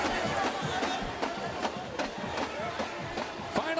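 Close to 70,000 fans fill the stadium at an Iowa versus Minnesota college football game, a broad, distant roar and chatter beneath a commentator's voice.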